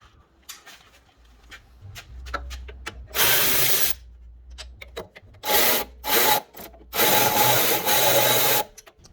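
Power tool or impact wrench bursts loosening 19 mm rear brake caliper bolts on a 2017 Nissan 370Z with the sport brake package, three loud sustained whirring runs separated by quieter clicks and handling noises, close up.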